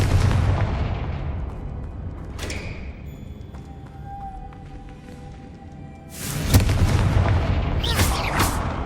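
The Confringo explosive spell in Hogwarts Legacy goes off as loud booming blasts, several separate detonations spaced a few seconds apart, with quieter crackling and hum between them.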